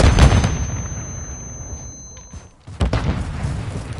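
A grenade explosion in the video game Modern Warfare III: a loud, booming blast at the start that rumbles and fades, then a second sharp burst of gunfire or blast noise near the end.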